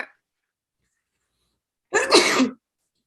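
A single sharp sneeze bursts out after a stretch of near silence, close and loud.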